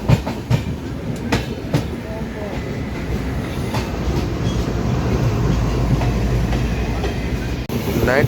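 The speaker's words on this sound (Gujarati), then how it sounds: "બોટાદ રેલવે સ્ટેશનથી અમારી ટ્રેન નીકળી ગઈ છે" A passenger train pulls out of Botad railway station in light rain, wheels clattering over the rails in a steady rumble with sharp clicks early on, heard from on board.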